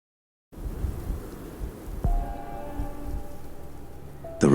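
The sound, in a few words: storm with rain and thunder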